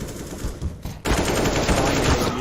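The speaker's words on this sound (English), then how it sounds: "The AK sprays, get a couple kills." An AK rifle sprays rapid automatic fire in the video game CS:GO, a dense continuous rattle of shots that swells louder midway through the burst.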